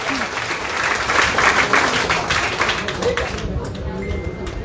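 An audience at a Zaker Party district meeting in Joypurhat applauds in a dense, sustained burst of many hands that fades near the end, with voices mixed in.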